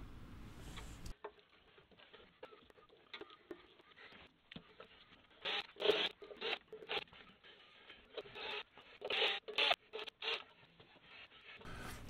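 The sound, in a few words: removing screws with a Phillips screwdriver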